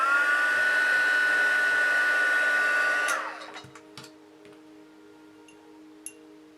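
A hair dryer runs steadily at close range for about three seconds to heat-set work, then shuts off and winds down, followed by quiet with a few faint ticks and small taps.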